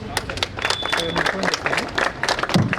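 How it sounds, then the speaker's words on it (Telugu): Loud applause from a crowd at a charitable trust launch during a school chairman's birthday event, dense clapping mixed with crowd chatter and voices throughout. "గట్టిగా చప్పట్లు"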